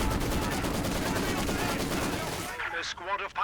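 Dense, continuous gunfire from a Company of Heroes 2 battle, machine gun bursts and rifle shots layered together, loud and steady before easing into sparser shots near the end.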